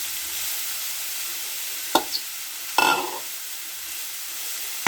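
Carrots stirred in ghee in a pan where cashews were just fried: a steady hiss of sizzling runs throughout, broken by two sharp scrapes and clatters of the spoon near the middle, with no talk.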